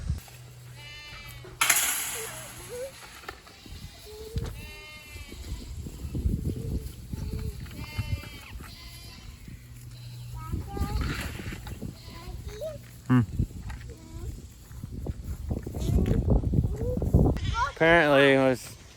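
Goats in a pen bleat repeatedly at close range, several wavering calls scattered throughout, with rustling and clatter nearby and people talking in between.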